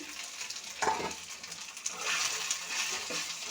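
Potatoes fry with ginger paste in a pan, giving a steady soft sizzle with a few stirring scrapes, close but fairly quiet and free of talk.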